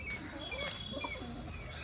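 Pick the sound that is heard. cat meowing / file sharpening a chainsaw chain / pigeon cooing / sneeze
pigeon cooing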